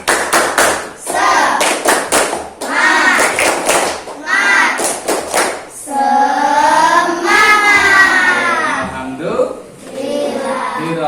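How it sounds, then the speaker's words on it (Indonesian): Children in a classroom clap a rhythmic cheer on a teacher's cue, sharp grouped claps in bursts followed by chanted group voices. "Tepuk satu. Tepuk semangat."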